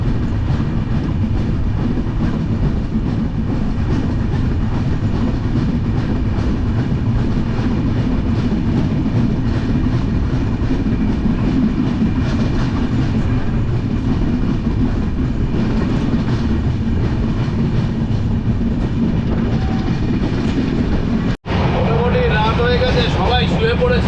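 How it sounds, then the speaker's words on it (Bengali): Passenger train running at fair speed on a winter night, heard from inside the carriage: loud continuous low rumble and rattling wheel noise with a brief cut near the end, no clear talk. "ট্রেন চলছে ভালোই স্পিডে মোটামুটি"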